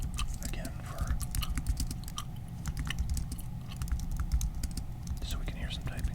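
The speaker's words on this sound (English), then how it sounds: "so we can hear some typing noises." Soft clicks of fingers typing on a computer keyboard, close and quiet, mixed with whispering and gum chewing.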